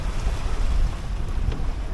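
Strong wind at sea aboard a junk-rigged sailboat running downwind in building winds near 25 knots, a steady loud rush and buffeting roar with low wave wash, no voices.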